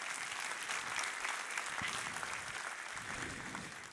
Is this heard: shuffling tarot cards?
no